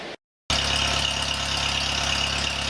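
An antique Kohler generator engine runs at a steady idle, loud and close, with a constant low hum and mechanical vibration after a brief dropout at the start.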